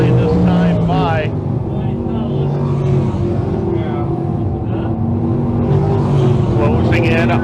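602 crate sprint cars race at Can-Am Speedway, engines roaring loudly and continuously as they charge through turns three and four, with an announcer talking over the noise.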